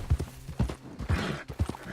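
Horse hooves clip-clopping in Red Dead Redemption 2, four clear paired thuds at an even walking rhythm, close and distinct with no talk.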